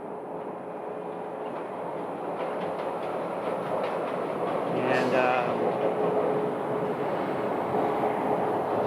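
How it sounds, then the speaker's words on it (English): Sky Train people mover running between Terminal 4 and the East Economy parking at Phoenix Sky Harbor Airport, a steady distant rumble and rolling hum with a brief squeal near the middle, and a voice heard briefly. "you can also see from this spot the Sky Train making its run between Terminal 4 and the East Economy parking"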